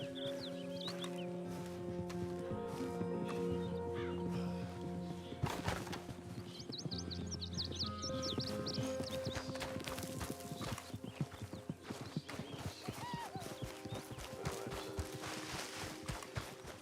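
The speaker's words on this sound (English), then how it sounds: "Come here, little horsey." A horse's hooves clip-clop steadily up close while the horse whinnies and snorts now and then, with faint birdsong in the background.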